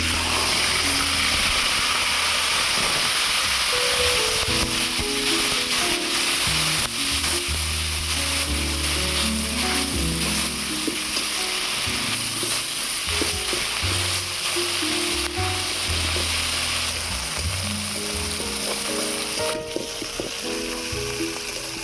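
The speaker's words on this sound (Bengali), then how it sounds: "এবারে দিয়ে দিচ্ছি পেঁয়াজ বাটা, আদা রসুন বাটা, টমেটো বাটা।" Onion, ginger-garlic and tomato paste frying in mustard oil for a Bengali egg curry, a loud, continuous close-up sizzle throughout, with a low droning hum running underneath.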